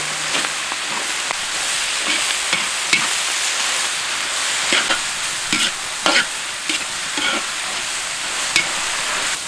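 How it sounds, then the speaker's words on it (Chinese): Chinese cabbage stir-frying in a hot wok with soy sauce, scallion, ginger and garlic: a loud, continuous sizzle near at hand, punctuated by irregular spatula scrapes and knocks against the metal, with nobody speaking. "把这白菜放进去煸一下"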